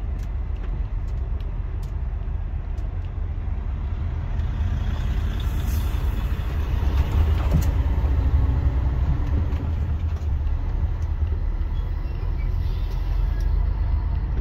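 Trucks being driven out, heard as a steady, heavy engine rumble throughout with low idling drone and faint clatter, loud and continuous with no break.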